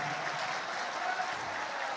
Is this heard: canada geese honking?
no